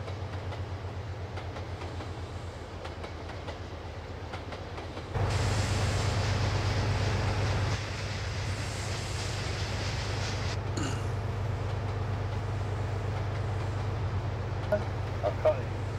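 A freight train rolls along the rails in the Montana Rail Link simulator game, a steady low rumble with a louder surge partway through, continuous and close.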